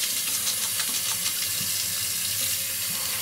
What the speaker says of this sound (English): Always run my razor under hot water first to get the blades hot.